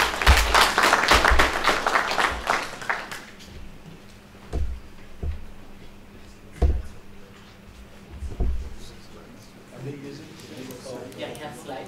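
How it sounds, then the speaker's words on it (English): Applause from an audience at an international university conference, a few seconds of dense clapping that thins into scattered claps, with a voice talking over the later part. "So can we clap as we have him?"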